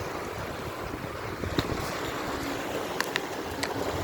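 Sea waves wash onto a beach in a continuous, rushing surf wash under steady wind buffeting, with a few faint clicks and knocks near the end.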